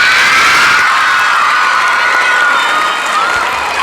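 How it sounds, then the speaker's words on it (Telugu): A large crowd of students at a motivation class roars with loud, sustained cheering and shouting, a dense wall of voices with little distinct clapping audible. "గట్టిగా చప్పట్లు కొట్టుండి అన్నకు ఒకసారి"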